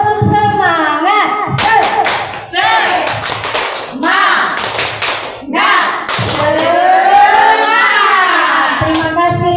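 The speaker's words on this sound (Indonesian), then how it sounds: "Tepuk semangat" A seated group of teachers performs a rhythmic spirit clap at a school training session, bursts of sharp claps in patterned sequences alternating with loud chanting voices, close and energetic.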